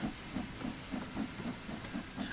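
A steam locomotive in Train Sim World 5 hisses from open cylinder cocks, a steady rushing hiss that pulses in an even rhythm with the wheel beats, fairly close and without voices.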